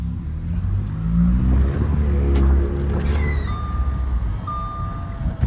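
An Audi A5 S-line turbocharged engine revs while the car rolls in neutral, a loud sustained low roar that swells and falls, with a faint high whine near the end.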